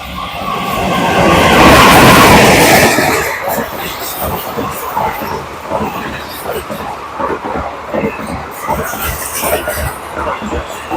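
A train passes through a railway station, a loud broad roar swelling over the first few seconds and then settling into a steady rhythmic clatter of wheels that continues to the end.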